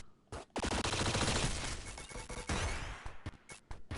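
Rapid gunfire from an upgraded gun in the video game Downwell, a dense burst of quick shots packed together for several seconds, then a few scattered sharp shots trailing off.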